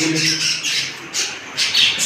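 Pigeons at a pigeon farm in a market give off repeated loud, harsh squawks and flutters, close by and filling the whole short stretch without talk.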